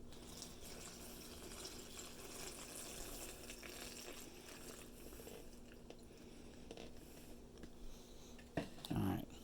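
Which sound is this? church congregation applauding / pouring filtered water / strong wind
pouring filtered water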